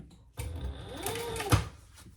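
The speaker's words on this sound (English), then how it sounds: "Now we are going to turn that down and top stitch this last C piece." A sewing machine top stitching a fabric piece for a triple sling bag with zippers, one close mechanical whirring run of about a second after a brief start, ending in a thump, with no talk.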